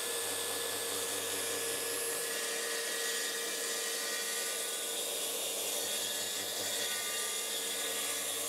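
A saw cutting down a wood panel in a workshop, a continuous whining buzz of motor and blade at steady level with no breaks, heard alone.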